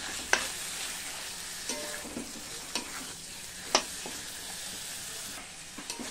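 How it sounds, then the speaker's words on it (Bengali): Mutton frying with onions in a pan for a Bengali mutton curry: a steady, quiet sizzle with occasional sharp spatula clicks and scrapes. "এবার আমি মটনটা ভেজে নিয়েছি।"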